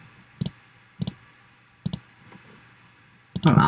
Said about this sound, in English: Oh, I keep clicking on the lines.